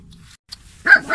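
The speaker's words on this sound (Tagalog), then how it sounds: "Daming aso dito ah." Two short dog barks ring out near the end after a quiet stretch, fairly close and sharp, with faint rustling before them.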